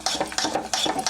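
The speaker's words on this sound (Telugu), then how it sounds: "చూడండి, ఇదంతా కలిపేస్తాను." Dosa batter with salt and soda being mixed by hand in a vessel, giving a close, rhythmic series of wet scraping and slapping strokes, roughly five quick beats.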